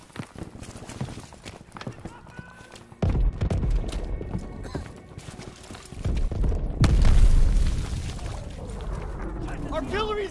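Artillery shells pound a beach during a World War II assault in Call of Duty: WWII, heavy booming impacts swelling loud at intervals over battlefield chaos, with shouting voices mixed in.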